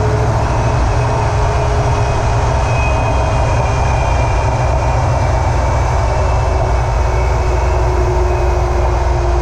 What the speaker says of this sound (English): Do you have a noise coming from the rear end of your vehicle